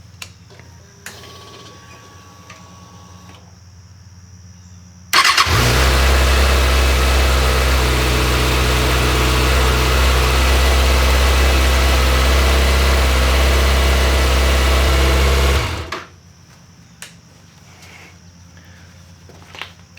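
A Kawasaki ZX6R motorcycle engine starts abruptly and idles with a loud, steady, deep rumble for about ten seconds before cutting off, with quieter background sounds before and after.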